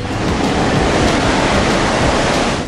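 Strong wind roars at sea on the deck of the MSC Sinfonia cruise ship as it departs Split, Croatia, a steady, loud broadband rush with surf-like texture and no voices.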